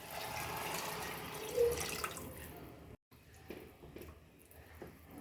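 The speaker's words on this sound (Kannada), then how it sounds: "ಇವಾಗ ಇದಕ್ಕೆ ನೀರನ್ನು ಹಾಕೊತಾ ಇದ್ದೀನಿ" Water is poured into rice mixed with masala for kushka rice, a soft, steady trickle lasting about two seconds and fairly quiet, followed by fainter handling clinks in a quiet kitchen.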